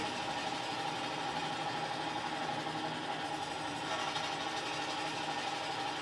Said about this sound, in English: Coming down with the pumps from 30 to 20 strokes per minute